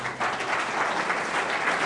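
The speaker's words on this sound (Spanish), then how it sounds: "Dale un aplauso al Señor." Applause from a congregation during a Spanish-language church service, dense and steady clapping that fills the room for under two seconds with no talking over it.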